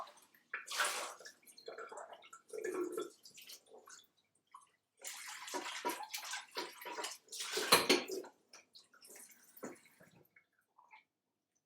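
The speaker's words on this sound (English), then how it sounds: "I'll give this bowl a quick wash" A bowl is washed under a running kitchen tap, with intermittent bursts of splashing water and clinks of the bowl, close by, separated by short silent gaps and without talk.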